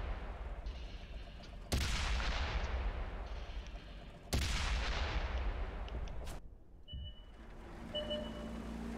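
A Pz.Kpfw.IV Ausf. D tank gun fires in World of Tanks. Two sharp, loud cannon blasts come a few seconds apart, each dying away in a long rumbling tail, then a quieter stretch with faint tonal beeps.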